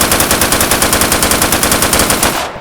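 Automatic rifle, compared to an AK, firing a long sustained burst in the video game Deadside, with rapid evenly spaced loud shots filling the whole stretch before cutting off at the end.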